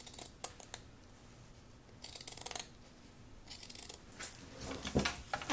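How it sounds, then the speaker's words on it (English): Crisp snipping and slicing bursts of scissors cutting through paper, coming in uneven strokes with brief pauses, close and fairly quiet. "I'm going to just follow that line with my scissors."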